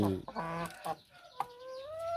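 A laying-breed hen clucks and calls close by in a short burst, with a brief voice at the start.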